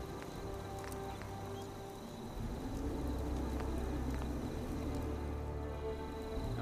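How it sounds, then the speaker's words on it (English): Rain falls steadily in the video game Fallout 4, a soft, even patter that holds for several seconds and thickens slightly partway through, with faint insect-like chirps in the background. "Hope this rain lifts in a second."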